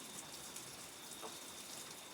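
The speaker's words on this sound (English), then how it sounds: "The rain just now started. That is the first, and it is really just a light sprinkle." Light rain sprinkling outdoors in Mississippi, the first drops of a shower falling near a campfire, a soft steady patter with faint scattered drop ticks, alone without talk.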